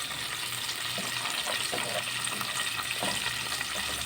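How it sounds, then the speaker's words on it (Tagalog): White onion fries in a pan for a sardines and broccoli dish. A dense, even sizzle fills the whole stretch, with soft stirring scrapes under it and no voices. "haluin lang natin hanggang sa medyo maluto"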